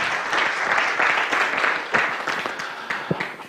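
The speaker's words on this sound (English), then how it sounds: "I thought she deserved another round of applause" An audience claps steadily in a dense, sustained round of applause at a live ActionAid talk event, filling the room without any speech over it.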